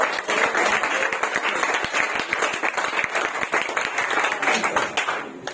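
Steady, crowded applause from a group of students for a brother who earned top marks, continuous clapping throughout with faint voices underneath.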